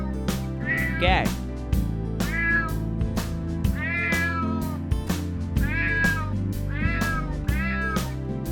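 A domestic cat meows several times in clear, repeated calls spaced about a second apart, sitting over cheerful children's background music, one of a series of farm animal sounds.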